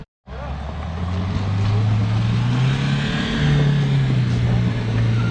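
An off-road 4x4 engine revs hard and steadily on a steep climb attempt, loud and close, its pitch rising and falling as the driver works the throttle, with voices in the background.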